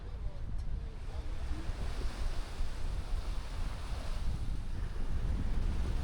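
Ocean waves wash continuously onto the beach at Playacar, a steady broadband surf roar with wind noise buffeting the microphone, fairly close and unbroken throughout.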